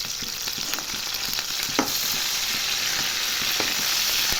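Green chillies and curry leaves sizzle in hot oil in a kadai, a loud, continuous crackling fry with occasional stirring scrapes, no voices.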